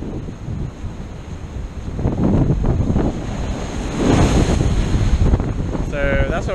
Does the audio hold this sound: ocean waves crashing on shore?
yes